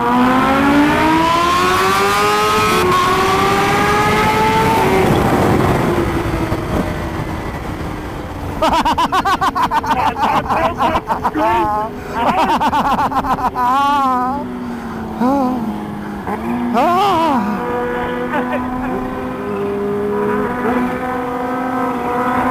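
A sport motorcycle such as a 2019 Kawasaki Ninja H2 or Ducati Panigale V4 R accelerates hard through the gears, loud and close with rising engine pitch, while voices talk over it.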